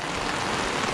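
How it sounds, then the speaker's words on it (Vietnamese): Heavy rain pours steadily in central Vietnam during the flood season, a dense, even hiss of countless drops striking surfaces, loud and unbroken throughout with no voices. "trời miền Trung mưa to quá trời"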